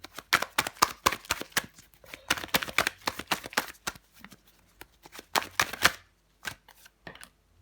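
Tarot cards shuffled and drawn at close range: quick bursts of riffling and slapping card clicks in uneven clusters, with short pauses between handfuls and no voices.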